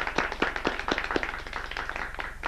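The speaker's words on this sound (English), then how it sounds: "Give him a round of applause" A small audience at a Toastmasters club meeting in Cincinnati claps for a speaker, with distinct individual claps in a brisk, uneven patter, moderately close and without speech.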